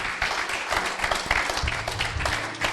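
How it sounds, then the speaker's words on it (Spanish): Brief burst of audience applause at a church service, a moderate, fairly distant clatter of many hands lasting a couple of seconds. "Le das un aplauso a Jesús."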